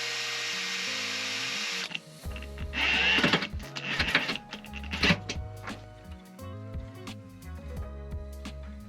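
A power drill bores screw holes while a diesel heater is being installed in a van. A steady, loud whirring runs for about two seconds, then gives way to shorter uneven bursts of drilling and handling clatter.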